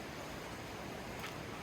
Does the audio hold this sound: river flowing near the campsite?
yes